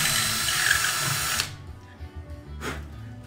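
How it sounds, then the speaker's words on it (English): A cordless power drill whirs loudly for about a second and a half while opening up a Four Star 40 model airplane fuselage, stops, then gives a short burst again, up close with no talking. "this drill has lasted a while"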